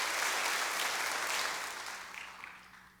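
A church congregation applauds during a Portuguese-language sermon, a dense clapping wash that starts moderately loud and fades gradually toward quiet.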